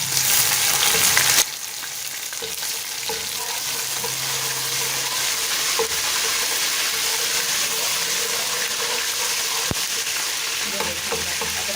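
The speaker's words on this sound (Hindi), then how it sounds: "अब इसमें हम लोग अदरक लहसुन का पेस्ट डाल देंगे।" Ginger garlic paste sizzles and fries steadily in a hot pan, loud and close, with occasional stirring scrapes and no talking.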